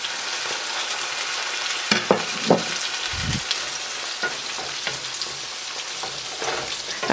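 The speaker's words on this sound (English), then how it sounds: "Stir it thoroughly till the raw taste of the ginger garlic paste goes." Ginger garlic paste fries in a pan for a restaurant-style paneer tikka masala, a steady close sizzle broken by several scraping stirs and a few spoon knocks, with no talking.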